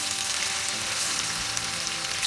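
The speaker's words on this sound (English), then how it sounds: "Now I will fry the fish pieces." Fish pieces frying in hot mustard oil, giving a dense, steady sizzle with fine crackling throughout and no voices.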